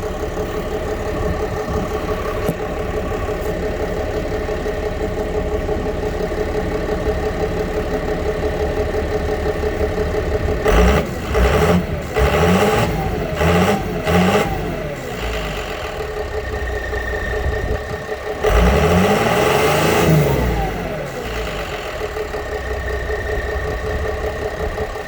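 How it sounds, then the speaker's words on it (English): Ford LCF ramp truck engine idling steadily, then revved several times in quick bursts with a longer rev near the end before settling back to a rough idle, loud and close with no talk. "So let me do a quick couple of revs and I'll get out."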